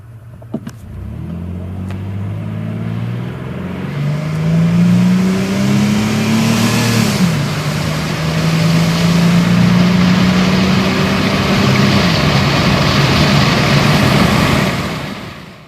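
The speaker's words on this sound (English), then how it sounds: "I've used a Dakota 0 to 60 video instead with the same engine." A Dodge Dakota pickup truck's V6 engine revs up hard through the gears from 0 to 60 mph, pitch climbing, dropping at each shift and climbing again, loud and close throughout.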